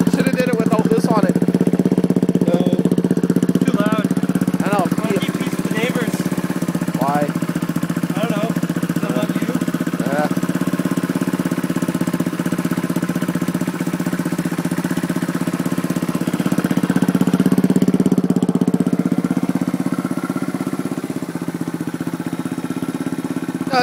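A 1974 Honda XL175 motorcycle with a leaking petcock idles after a cold start, a steady loud engine putter running throughout while people talk over it.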